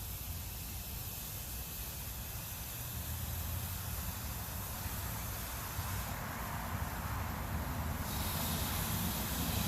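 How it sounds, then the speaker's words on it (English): Steak searing on a Lodge cast iron sportsman's grill, giving a steady, dense hiss that runs unbroken and fairly loud throughout, with no voices. "We got a little sear going on."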